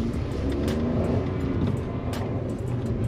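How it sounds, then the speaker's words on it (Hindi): A 2022 Maruti Celerio drives and turns with a steady, close engine and road drone from inside the car, accompanied by a few light clicks and rattles. "सो मैं इजीली टर्न कर पा रहा हूँ कार को"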